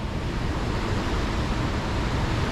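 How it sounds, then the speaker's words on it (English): The Ammonoosuc River in New Hampshire flows and corkscrews, giving a steady, broad rushing wash of water that stays constant and fairly close with no voices. "This river flows in down and corkscrews around,"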